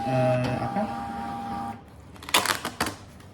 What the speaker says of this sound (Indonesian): Nah, printer akan melakukan tes print.